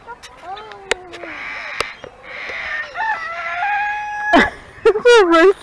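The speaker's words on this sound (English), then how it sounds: "It's a rooster!" Chickens cluck and a rooster crows nearby amid a busy barnyard, with voices talking over the birds and a louder crow at the end.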